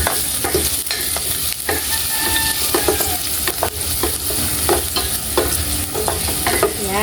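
Onion and garlic sauté in a pan with a loud, steady sizzle and frequent scrapes and taps of a utensil stirring them.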